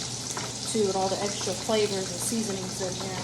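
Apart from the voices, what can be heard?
bacon frying in a pan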